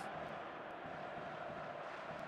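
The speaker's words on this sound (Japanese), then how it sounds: "スタンドを埋めたサポーターの歓声が今日もスタジアムを覆っています。" A stadium crowd of supporters in a football video game, set at Rome's Stadio Olimpico, makes a steady, far-off roar of cheering with no breaks and no talk over it.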